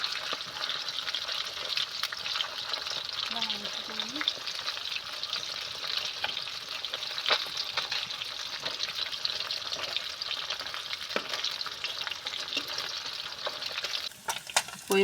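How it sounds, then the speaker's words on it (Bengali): Koi fish frying in hot oil for a traditional Bengali curry, a steady loud hiss and sizzle running throughout with occasional clicks of the fish being turned, and a brief clatter near the end. "দুপাশ উল্টে দিয়ে আমি ভালো করে ভেজে নেব।"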